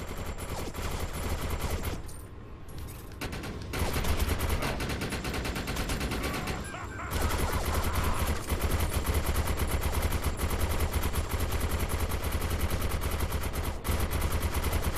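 Gunfire and explosions from the video game Defiance, with rapid bursts of shots and booming grenade blasts over a busy, loud game soundscape.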